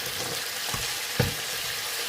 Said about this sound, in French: vous laissez cuire environ 5 à 10 minutes